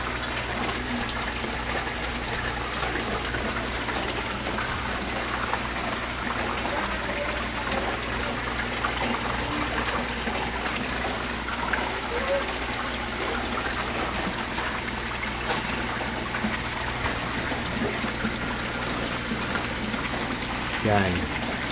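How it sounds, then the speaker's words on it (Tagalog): An Aquaspeed A5000L/Hr submersible water pump runs in a koi pond, giving a constant, even wash of gushing, trickling water with a low hum underneath that stays steady and unbroken throughout. "Aquaspeed submersible pump or Aquaspeed water pump"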